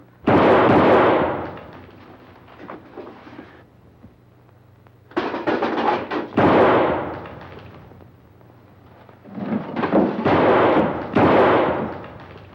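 Heavy gunshots from a .38 caliber six-shooter belly gun crack out in three loud bursts with echoing tails, separated by stretches of quiet room tone.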